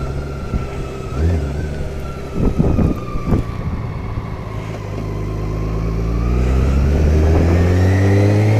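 Motorcycle engine revving through a gear shift with the clutch lever pulled only slightly, a steady close engine drone with harmonic tones that dip briefly around the shift, then climb and swell as it accelerates.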